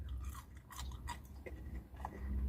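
Crunchy chewing of crispy McDonald's carrot vegetable fries, a few close, distinct bites and crunches spread over a couple of seconds, quiet and alone.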